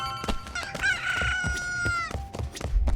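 Chickens in Like a Dragon: Infinite Wealth: a rooster crows one long, bright call over a run of clucks and scratchy pecking thumps, close and clear.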